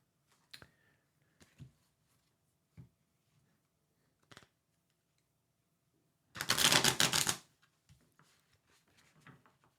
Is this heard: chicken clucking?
no